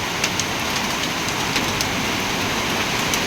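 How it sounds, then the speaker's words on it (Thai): Hail and rain fall on a roof in a dense, continuous patter, with sharp clicks and ticks of hailstones scattered across the steady wash. "ลูกเห็บคือเป็นเป็นเหมือนก้อนน้ำแข็งนะคะ ที่หล่นลงมาจากฟากฟ้านะคะ"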